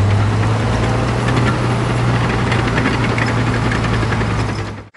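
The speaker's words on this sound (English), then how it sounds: "Tractor." A tractor engine chugging steadily at idle, a deep knocking rumble with a low hum, close and loud throughout.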